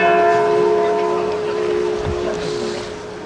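Riga Cathedral bell ringing in an outdoor setting, a steady sustained metallic tone with lingering overtones heard at moderate distance under general ambient noise.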